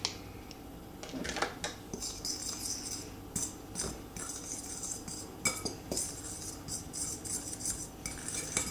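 Butter being mixed into a crumbly cookie dough mixture in a bowl, giving steady scraping and clinking of a utensil against the bowl, close up and continuous with irregular sharper clinks.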